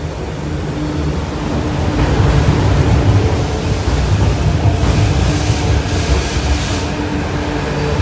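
A metro train rumbles loudly and steadily nearby as it pulls into Kwun Tong Station, Hong Kong, with rail noise swelling midway and some faint squeals later as it slows to a stop.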